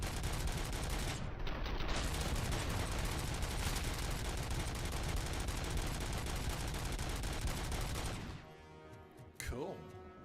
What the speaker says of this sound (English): Yeah, it's a scatter gun.